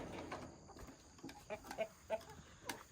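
Chickens on a farm cluck in short, soft bursts at a distance, scattered irregularly across a quiet outdoor background.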